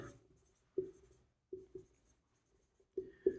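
A pen writing a math condition by hand on paper, producing several short soft scratching strokes in irregular bursts, close and faint, with no talking.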